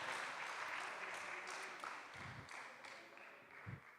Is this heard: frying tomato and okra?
no